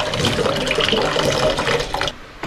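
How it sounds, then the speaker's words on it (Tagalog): Stored water poured out for washing, a loud close gush and splash that runs steadily and then cuts off abruptly near the end. "Ayna po yung tubig, oh. Ganyan lang po, kaya nag-iipon kami dito para may pang ugas-ugas."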